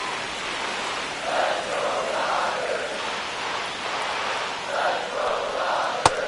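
Stadium crowd noise from the MLB The Show 25 baseball video game during a tense ninth inning, a steady wash of murmuring fans with gentle swells and one sharp click near the end.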